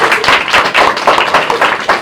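Loud, dense clapping from a crowd for two singers, sustained and rhythmic throughout without any talking.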